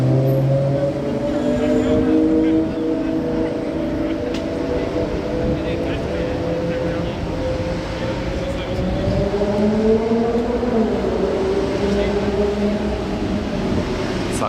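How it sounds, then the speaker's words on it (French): A Ferrari V12 drones through the tunnel at Monaco, its loud engine note rising and falling and echoing off the walls as it passes, with a voice speaking over it. "Écoutez son V12."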